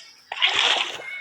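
Water splashes out as it is poured into a small fish pond, a sudden near splatter that starts sharply and keeps sloshing steadily for about a second.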